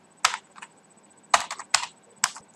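Typing on a computer keyboard: a few short bursts of close, crisp key clicks separated by pauses, quiet otherwise.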